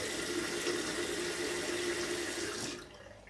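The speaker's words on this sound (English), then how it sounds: "A little bit more water just to add." Water runs steadily from a tap during a wet shave with a Razorock Baby Smooth razor, a close, even gush that stops just before the end.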